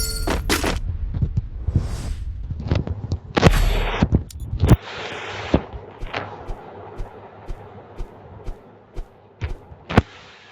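SVD sniper rifle shots in a shooting video game ring out as sharp, loud cracks, several spaced apart, followed by a run of quieter clicks and thuds, with no talking.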